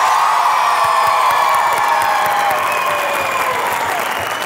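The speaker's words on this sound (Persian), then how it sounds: "همه آدم های سلامت با دست و سوت و جیغ جواب بدن" A studio audience applauds, whistles and cheers at a music talk show, loud dense clapping with shrill whistles and whoops rising over it, sustained throughout and slowly easing.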